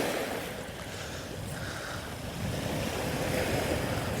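Strong wind roars across a gravel beach on the Cornwall coast, a constant broadband rush with gusty buffeting against the microphone and surf mixed in, loud and unbroken throughout.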